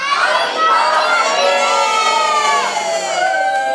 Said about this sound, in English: you guys have to shout and say happy birthday, Dave